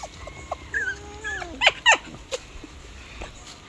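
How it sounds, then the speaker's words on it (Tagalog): Guard dogs at a property, several of them, giving short yelps and whimpering whines with a couple of sharper barks, fairly close and moderately loud, no talk. "May mga bantay pong aso."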